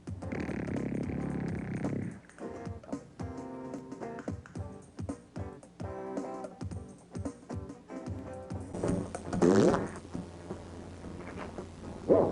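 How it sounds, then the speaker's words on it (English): Fart sound effects played as a quiz round on a comedy game show, a long string of sputtering, popping bursts of varied length and pitch, loud and close throughout, with no talking over them. "identify this fart."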